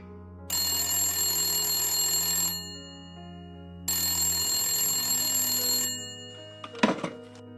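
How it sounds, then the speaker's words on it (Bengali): A telephone bell rings in two long bursts separated by a pause, then a short thunk follows as the ringing stops. "এমন সময় হঠাৎই ফোনটা বেজে উঠল।"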